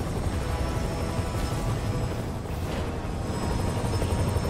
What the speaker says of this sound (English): छत पे हेलीकॉप्टर है